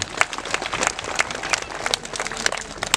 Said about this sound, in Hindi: उनके लिए भी जोरदार ताली बजा देंगे।